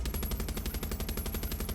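Heavy mounted gun in Far Cry 6 firing a rapid, steady burst of booming shots, loud and continuous with no pauses.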